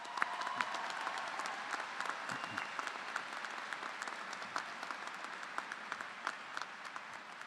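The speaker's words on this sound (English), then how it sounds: "One more applause." Commencement audience at a College of Creative Arts ceremony breaking into sustained applause to thank teachers, dense and steady clapping from a large crowd with individual claps popping out near the front.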